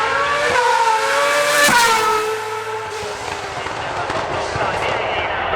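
A Renault Sport race car at the Goodwood Festival of Speed 2017 sweeps past, its loud engine note dropping in pitch as it goes by and fading into steady crowd and track noise.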